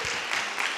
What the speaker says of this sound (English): Let's give Kim a nice round of applause.